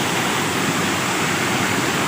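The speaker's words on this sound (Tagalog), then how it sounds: "May sapa pala." Steady rushing of a stream flowing nearby, a dense, loud, unbroken wash of water with no other sounds.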